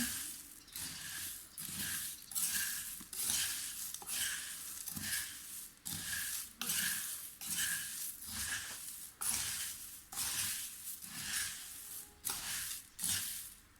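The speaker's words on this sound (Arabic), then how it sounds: "خلطوها شوية بالمغرفة" Nwasser pasta being stirred with a ladle in a pot while turmeric and oil are worked in, giving repeated wet, scraping swishes in a steady rhythm, close and fairly loud, with no talking.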